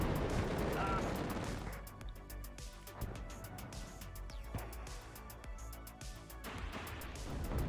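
Gunfire rattles through a WARNO real-time strategy battle, with dense rapid bursts of automatic fire and distant booms layered over a steady din, fairly faint overall.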